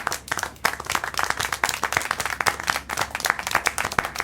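Applause and clapping from a crowd in the video game Syberia: The World Before, dense rapid claps sustained loudly throughout.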